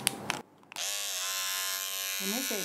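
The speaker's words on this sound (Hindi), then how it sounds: "ट्रिमर की सहायता से थोड़ा इन्हें सेट करेंगे।" Electric hair trimmer buzzing steadily and close while cutting a boy's hair at home, a sustained motorized whine after a brief start-up, with short talk at the opening.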